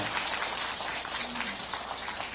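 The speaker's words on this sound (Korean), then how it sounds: "박수 치려면 확실히 치셔요" A crowd at a political rally claps, a dense, steady patter of many hands that carries on evenly throughout, somewhat distant and moderately loud.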